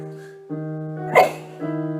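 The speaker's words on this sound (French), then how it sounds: "Attendez, j'éternue." One short, sharp sneeze bursts out during a music lesson, between sustained, steady instrument notes that pause and resume around it.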